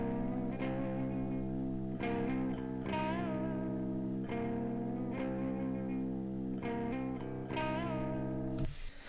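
Overdriven electric guitar from a customized Fender Strat, with drive at zero and level at ten and no extra EQ, playing sustained chugging chords in repeated phrases with an effects-heavy, chorus-like shimmer, loud and alone.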